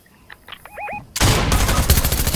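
Rapid full-auto Uzi fire in PUBG bursts in loud and dense after a second of quiet game sounds and short tones, then rattles on steadily to the end.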